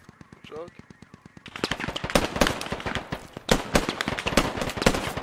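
AK rifle fire in the tactical shooter game Squad crackles in fast, repeated bursts, starting as a steadier distant rattle and then growing louder and denser with overlapping shots, while players talk over it.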